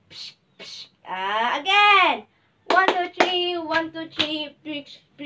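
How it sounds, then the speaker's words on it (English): Classroom of students doing rhythmic fireworks claps, a few sharp claps and a teacher and children's voices in between, loud and close in a classroom demonstration. "You want fireworks claps again?"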